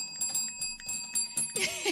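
A handheld bell struck repeatedly by a host, several quick bright dings in a row with a resonant ringing tone, heard close up in a room.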